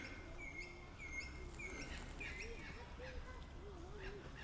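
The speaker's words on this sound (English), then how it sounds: "And the sound of the birds." Faint high bird chirps and short tweets repeat through steady outdoor background noise at a campsite, with a low voice murmuring underneath.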